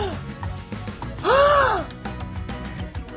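A person lets out a loud, drawn-out dramatic gasp aimed at a dog, rising and falling over about a second, with a steady indoor background of music and rustling around it.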